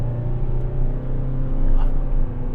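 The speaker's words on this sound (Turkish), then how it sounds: "motorun sesi kabine geliyor" A steady, low diesel engine drone from a Toyota Proace City Cargo van with a slight rise in revs, muffled as heard from inside the cabin, with no one speaking.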